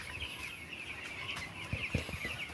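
Chickens on a poultry farm cluck softly and continuously as a moderately distant flock, with a steady high hum and some low thumps behind them.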